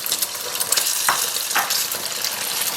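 Eggs sizzle and crackle as they fry in hot oil in a wok, a steady bright hiss with a few louder spatters from stirring.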